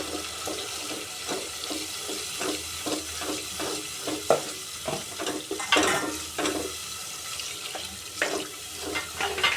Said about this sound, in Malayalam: ഇതിലേക്ക് ഞാൻ അരച്ച് വെച്ച അരപ്പ് ചേർത്ത് കൊടുക്കുന്നു.